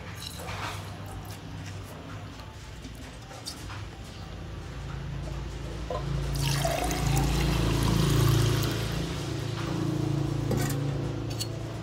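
Lime juice trickles and dribbles steadily as a sliced lime is squeezed for a honey and finger root drink, a close wet pour that swells midway and then tapers.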